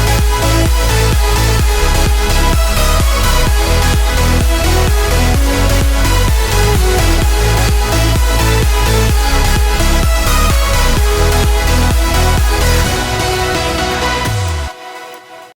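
Progressive house drop with a pounding four-on-the-floor kick, thick layered synths and dense bass, loud and full throughout before cutting off sharply near the end, no voices.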